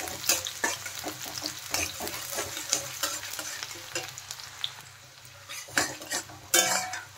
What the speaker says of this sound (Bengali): তেলের মধ্যে দিয়ে দিলাম একটা তেজপাতা আর দিয়ে দিলাম কুচনো পেঁয়াজ। পেঁয়াজগুলো হালকা ভেজে নেব প্রথমে।